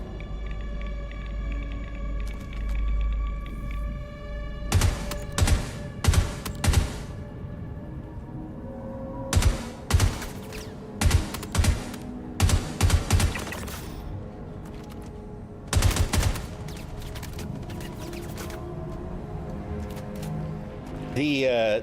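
Gunfire in the space game Star Citizen, bursts of sharp shots arriving in clustered volleys over a steady humming drone, loud and repeated across the stretch.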